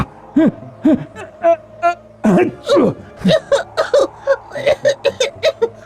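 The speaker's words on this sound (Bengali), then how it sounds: "কি কাশি কি কাশি! ও বাবা, নাকে মুখে ধুলো ঢুকে একশো।" A person coughs repeatedly, choking on dust kicked up from a dirt road, in about a dozen close, loud, voiced hacking bursts with brief gaps between them.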